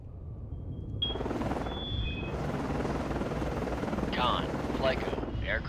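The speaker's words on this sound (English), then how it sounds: "aircraft landing." An aircraft comes down onto a ship in Cold Waters, a steady helicopter-like rotor drone and rushing noise under radio-style voices, with brief electronic tones and whistles.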